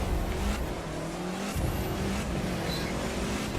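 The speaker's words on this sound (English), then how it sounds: "Listen to the engine." A Group B rally car engine in The Crew 2 drones and revs steadily through gear changes, a continuous gritty motor roar with faint tire noise, no voices.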